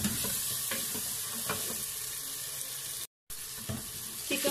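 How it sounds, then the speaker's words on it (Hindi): Chicken pieces frying in hot oil and being stirred, a continuous close sizzle with scraping stir strokes, briefly cut to silence once. "चिकन डाल के हम इसको मिक्स करेंगे अच्छा सा, और ऑयल छोड़ने तक हम इसकी भुनाई करेंगे"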